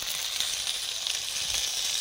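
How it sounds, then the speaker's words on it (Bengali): Pointed gourd (potol) fries in hot oil in a pan, giving a steady, close, continuous sizzle and crackle with no talk over it. "এবারে পটলগুলো ভাজা করছি।"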